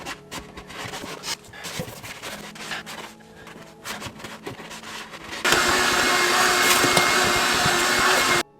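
A loud vacuum cleaner cleaning a BMW car interior runs steadily, with scraping and bumping noises before it, then a sustained roaring suction for the last few seconds.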